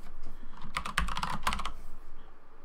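Fingers type on a computer keyboard while a buff tracker is being set up in a game UI. A quick run of close, clicky keystrokes builds to a burst and then stops.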